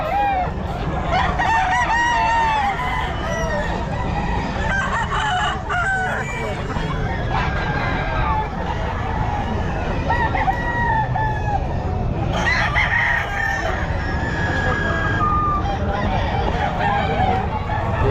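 Bull stag roosters crow repeatedly amid a busy Bocaue pet market, loud, drawn-out calls rising over steady crowd noise with clucking fowl and honking geese nearby and people talking in the background.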